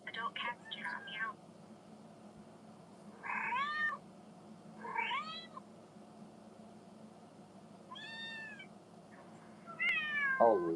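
A cat meows several times in short, rising calls spread across the clip, fairly close, over a steady low background hum.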